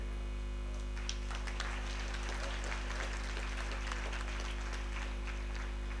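An audience at an education conference in Mahbubnagar, India, breaks into a burst of clapping that starts abruptly and keeps going, over a steady low electrical hum from the hall's sound system.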